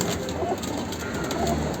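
Pakistani bloodline pigeons coo softly in a short, murmuring stretch against a steady background hum, at a pigeon sale in Khar West, Mumbai.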